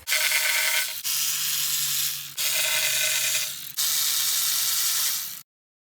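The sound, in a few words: ratchet loosening 10 mm nuts on Honda oil pan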